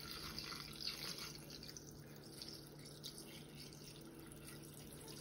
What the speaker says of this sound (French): j'ajoute de l'eau pour la sauce